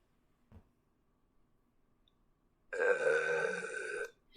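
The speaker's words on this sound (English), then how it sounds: "And we'll change the meow 2 into the burp." A cartoonish burp sound effect played back in the Scratch coding program, one long throaty belch lasting over a second after a near-silent pause with a tiny click, followed by the start of a voice.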